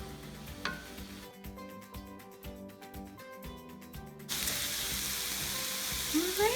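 Spiced taco bowl meat cooking in a pan, first under a rhythmic ticking, mechanical pattern of tones, then breaking into a steady, loud broadband sizzle that fills the last couple of seconds.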